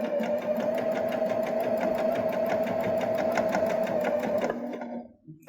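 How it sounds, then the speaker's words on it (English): A Baby Lock Jazz II sewing machine stitches through fabric and batting with a rapid, steady whirring and needle clatter up close, then stops abruptly near the end. "I'm just going to stitch down to this edge right here."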